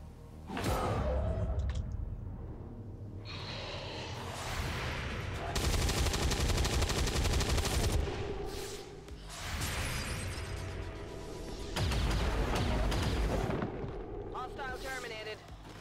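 Overwatch gunfire from XCOM 2 soldiers, heard as loud bursts of rapid shots in several clusters, with dense crackling blasts recurring across the stretch and faint talk underneath.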